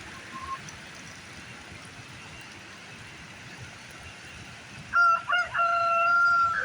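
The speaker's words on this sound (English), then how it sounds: "the rooster's over there just crowing away" A rooster crows loudly near the end, a drawn-out call rising over a quiet outdoor backdrop, with a faint earlier cluck and no talking.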